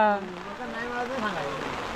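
The first monsoon rain in Konkan falls as a soft, steady hiss in the background while someone talks over it for the whole stretch.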